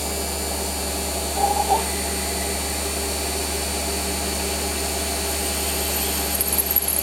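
A Warco WM180 metal lathe with a variable-speed motor runs a 5.9 mm drill into a workpiece, giving a steady, even motor whine and hum close by with a brief faint squeal of cutting.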